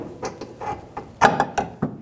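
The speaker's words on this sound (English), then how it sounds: "Using a 17mm socket, remove the nut on the bottom of the shock." 17mm socket on a ratchet removing the nut from the bottom of a rear shock on a 2003-2008 Honda Pilot, heard as a series of close, irregular metallic ratcheting clicks with brief pauses, without any voices.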